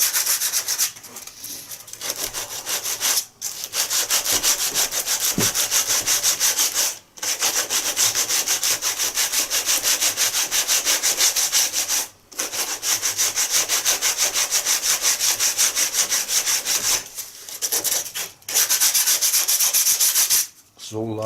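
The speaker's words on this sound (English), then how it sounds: "using a bit of sandpaper, again, you know, 80 sandpaper, lightly rub it" Coarse 80-grit sandpaper rubbed lightly over a repair patch on an Acrowot XL model plane, a steady close raspy scratching in long continuous strokes broken by brief pauses.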